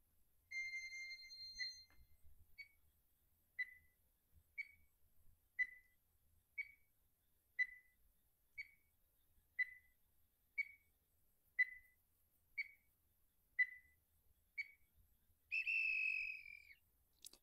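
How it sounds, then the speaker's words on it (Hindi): A quiz question's countdown timer gives about a dozen clear, evenly spaced electronic beeps, one per second, in near silence. It ends with a longer, louder tone marking time up. "मैं आप लोग के लिए टाइमर लगा दे रहा हूँ।"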